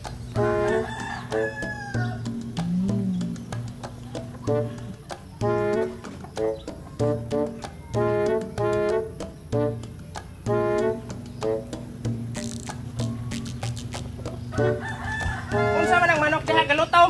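A rooster crows again and again in loud, strained calls, with softer clucking between them over a constant low background hum.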